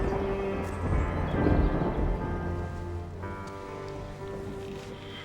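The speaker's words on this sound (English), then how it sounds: "Is it raining?" Steady rain hiss with a low rumble underneath, continuous and fairly loud throughout, no voices.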